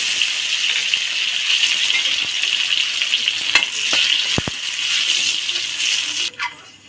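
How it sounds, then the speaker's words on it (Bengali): Cashews and raisins frying in hot ghee in a wok give a loud, steady crackling sizzle with occasional metallic clinks from stirring, before the hiss suddenly drops away near the end. "কড়াইতে একটু ঘি দিয়ে দেবো, দিয়ে কাজু কিশমিশটা ভেজে নেব।"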